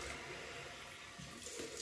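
Cold water runs steadily from a tap for a post-shave rinse, a continuous close hiss and splash with no talk.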